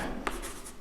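Marker or chalk writing on a board during a maths lesson, a faint short scratchy stroke with a slight tap, quiet and brief with no talking.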